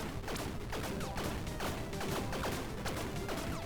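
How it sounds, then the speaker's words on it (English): Dense, continuous barrage of overlapping explosions and blasts from the roguelike video game Tiny Rogues, rapid-fire and loud throughout with sharp bursts stacked on top of one another and no voices. "There's going to be a lot of explosion noises in this video."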